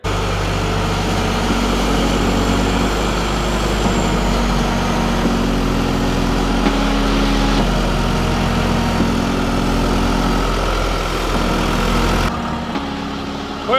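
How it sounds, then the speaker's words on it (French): A tractor engine runs steadily on a freezing early morning in a Champagne vineyard before mulching work, a loud continuous low drone with slight shifts in pitch, close by, then cutting off abruptly near the end. "le tracteur est démarré"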